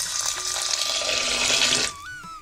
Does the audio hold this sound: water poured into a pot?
yes